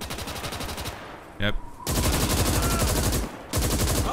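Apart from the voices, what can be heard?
gunfire (PPSh) in video game Gates of Hell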